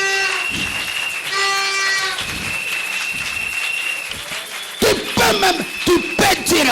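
A church congregation claps and cheers, with a sustained high wavering cry and tonal whoops over the crowd, then a burst of sharp, loud claps near the end.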